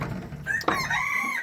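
A rooster crows once, close and clear, in a farmyard with chickens, a single drawn-out cock-a-doodle-doo rising and holding before trailing off, with no talk over it.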